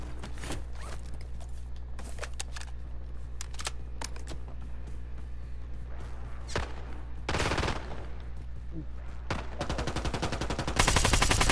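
Rapid bursts of gunfire crackle in a Black Ops 6 Warzone match, with sharp, distant-sounding volleys and automatic rattles scattered over a steady background, growing denser and louder at the end.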